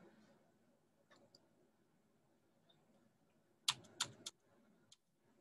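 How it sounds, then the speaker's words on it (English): Quiet computer keyboard typing during a Chinese lesson, a few scattered soft clicks then a short burst of several sharper keystrokes near the end, close and faint with light background noise. "Typing here."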